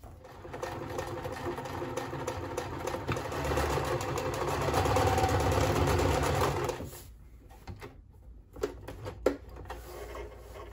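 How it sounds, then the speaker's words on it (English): Sewing machine stitching through pinned fabric with a steady, fast mechanical whir that runs for about seven seconds, then stops, leaving a few scattered handling clicks and rustles. "We'll sew this and see what happens"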